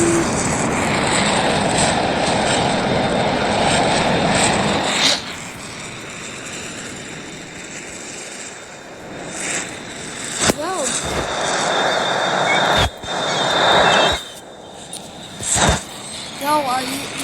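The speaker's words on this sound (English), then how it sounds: "I'm gonna do the F-14." An F-14 jet roars in an aircraft carrier video game, a loud continuous engine drone that shifts in pitch, broken by sharp clicks and bursts, with a voice talking over it.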